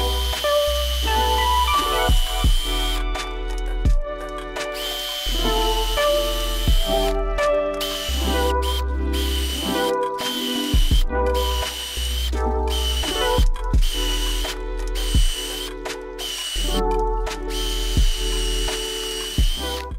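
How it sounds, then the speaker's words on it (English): Power drill boring rows of holes in a log, with repeated loud whirring bursts, changing motor pitch and clicking ratchety sounds, all close up and without talk. "So now I've got one row drilled here"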